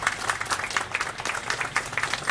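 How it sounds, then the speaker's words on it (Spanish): A crowd applauds a cooperative credit union executive being welcomed at the Celebres del Camuy Arenas 2012 event in Camuy, a loud, continuous patter of many clapping hands from close by, steady without pause. "un fuerte aplauso para ella."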